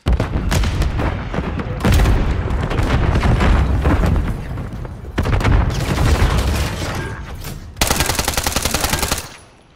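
Heavy gunfire in Call of Duty Modern Warfare 3 Hardcore Search and Destroy, loud rapid bursts and booming shots in several long volleys with short gaps, no clear talk over it.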